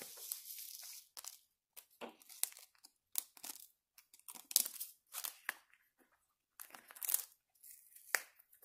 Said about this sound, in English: this is all I do is just cut off the corner and dump